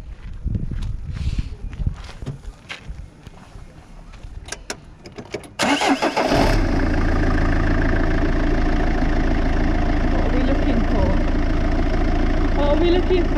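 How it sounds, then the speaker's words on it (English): A Citroen Xantia Exclusive Estate starts after a few seconds of nearby shuffling and handling noises, then settles into a loud, steady mechanical hum as its hydraulic suspension pump winds up. Voices speak faintly in the background. "You'll hear the pump going, that's actually now the pump winding itself up."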